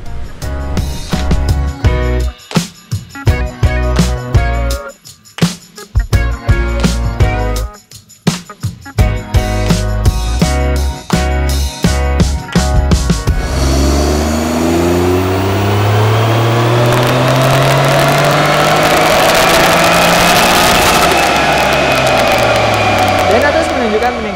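A car runs on a dyno test after an oil change: first a loud, choppy rhythmic engine and roller noise, then a rising engine roar that revs up and up to a loud, sustained pitch.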